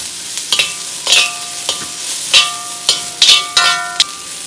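Ginger garlic paste frying in an air fryer: a steady hiss of sizzling under a series of sharp clicks and knocks from stirring, with bright tonal rings, nearby and fairly loud, with no talking.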